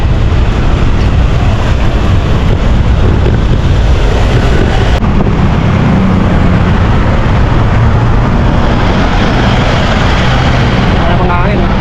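Strong wind buffets a small boat out on open water, a loud, steady roar with waves washing against the hull throughout, and faint talk beneath the noise.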